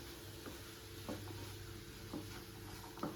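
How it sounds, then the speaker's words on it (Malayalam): Chopped fruits frying in melted butter over a low flame, a soft continuous sizzle with a few light scraping knocks as a spoon stirs through the pan, quiet and without talk. "ബട്ടർ മെൽറ്റായി കഴിയുമ്പോൾ നമ്മൾ അരിഞ്ഞു വെച്ചിരിക്കുന്ന ഫ്രൂട്ട്സ് എല്ലാം ഇതിലേക്ക് ചേർത്ത് കൊടുക്കാം നന്നായിട്ടൊന്ന് യോജിപ്പിച്ചെടുക്കണം"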